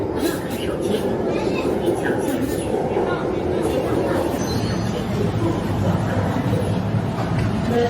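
Crowded metro train carriage in China: constant loud rumble of the moving train with lively passenger chatter and babble mixed in throughout, one voice speaking nearby.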